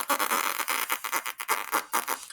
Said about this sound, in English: you make a buzzing noise with your lips